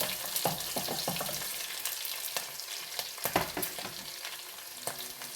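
Ginger, garlic, green chillies and dried red chillies fry in hot oil in a pan while being stirred, with a continuous sizzle broken by scraping, clattering strokes of the spoon at an uneven pace.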